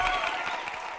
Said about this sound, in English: Amy, bring the applause back.